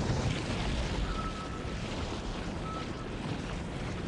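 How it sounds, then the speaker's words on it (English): Submarine ballast tanks flooding, a steady broadband rush of water and air that runs without a break at an even level, with no voices over it. "Flooding ballast tanks 3 and 4."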